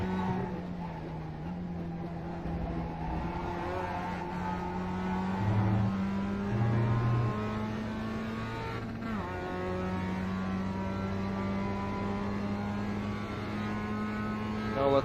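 Mazda MX-5 race car in the iRacing simulator at Okayama, its engine a steady droning hum with rising and falling pitch as it accelerates and shifts, continuous throughout.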